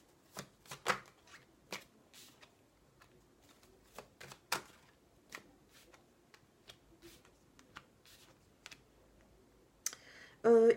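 Tarot cards handled and laid down on a table to cover them, giving a series of quick, close card slaps and clicks at an irregular rhythm, with a brief louder burst near the end.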